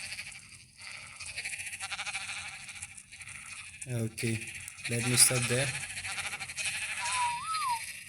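Sheep on a video game sheep farm bleat in a few short wavering calls, with a coin-like chime and someone talking over the game sounds.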